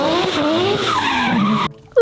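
A toy race car gives a short, bright skidding tire-squeal sound effect with wavering pitch, loud and close, cutting off abruptly near the end followed by a brief click.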